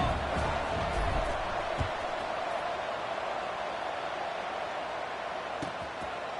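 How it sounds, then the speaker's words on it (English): A college football stadium crowd keeps up a dense, steady roar of murmuring and distant cheering from many voices, filling the whole stretch at an even level. "this crowd is buzzing after that last score"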